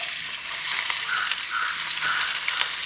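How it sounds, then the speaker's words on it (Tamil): Onions sizzle and fry steadily in a hot pan while a Tamil crab curry is being cooked, a dense, continuous crackle with no talking. "இப்போ வெங்காயத்தை போட்டுருவோம்"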